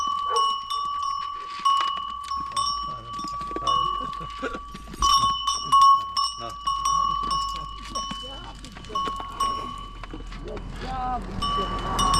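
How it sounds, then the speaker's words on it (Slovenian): Goats in a mountain setting in Albania, bleating briefly among steady ringing bells that chime repeatedly throughout, with people talking nearby. "Lejte, kozice."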